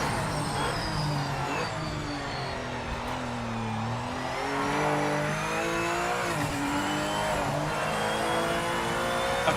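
Race car engine in the Project Motor Racing video game revving loud and close, its pitch climbing and falling through gear changes and throttle lifts with tyre noise, and no voices over it.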